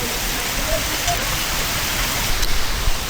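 Hail falls outdoors in a steady, dense pattering hiss that stays fairly even throughout, with a slightly busier burst of impacts near the end.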